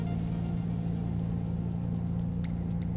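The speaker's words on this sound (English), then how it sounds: "Accelerating while driving, accelerating from stop." A Toyota 4Runner fitted with a Pedal Commander accelerates through city streets, heard from inside as a steady engine drone and low road rumble with a rhythmic ticking above it.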